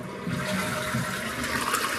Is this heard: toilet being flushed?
yes